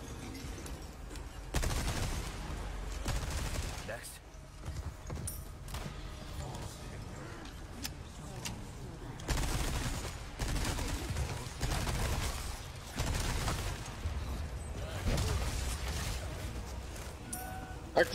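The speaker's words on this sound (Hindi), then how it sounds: "बाबू अब चलाओ तुम सब मशीन गन" Machine-gun fire in Resident Evil 4 comes in repeated loud bursts of rapid shots separated by short pauses, with a voice talking intermittently between volleys.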